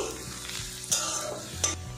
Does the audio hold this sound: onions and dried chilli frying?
yes